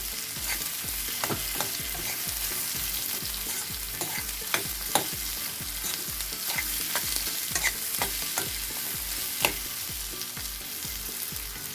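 Indian olives fry over a high gas flame for pickle, a continuous sizzle broken by regular scraping strokes of a stirring spoon against the pan, with no talking.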